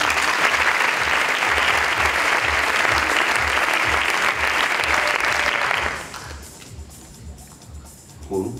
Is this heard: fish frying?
no